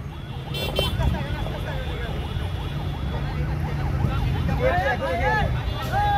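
An ambulance siren wails with rising and falling tones amid a political motorcycle rally in Charghat, Rajshahi, sounding fairly close over a steady hum of engines and crowd chatter.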